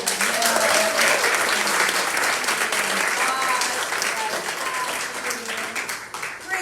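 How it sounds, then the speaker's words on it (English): A congregation gives sustained, warm applause during a Sunday church celebration service, steady clapping throughout with faint voices and cheers beneath it, fading slightly near the end. "One more round of applause."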